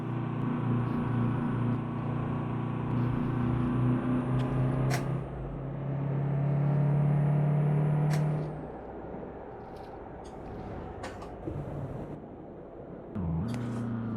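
A truck engine in a driving game drones steadily and swells into a louder rumble. Sharp hisses of air brakes cut in several times before the engine note drops and picks up again.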